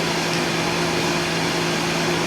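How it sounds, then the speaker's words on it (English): A pump running steadily during home brewing of a one-barrel sour batch, giving a continuous even hum with a low tonal drone, close and unbroken. "so we're going to turn the pump on"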